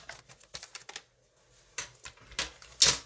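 Designer series paper with a glittery shimmer being cut on a paper trimmer for a card, heard as a few short scraping slices and clicks separated by pauses, ending in a louder sharp swipe.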